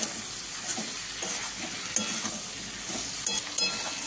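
Prawn and taro masala being stir-fried in a pan, a steady sizzle with scraping stirs and a few sharp utensil clicks, close and alone without any talk.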